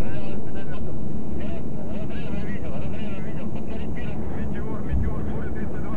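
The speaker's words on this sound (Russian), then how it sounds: "Реактивный самолет 400 метров." A jet aircraft roars close by as a loud, steady rumble that holds throughout, with a voice talking over it.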